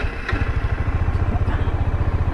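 A Bajaj Dominar 400 motorcycle engine chugs close and steady with an even, rapid pulsing throb, loud and alone with no voices over it.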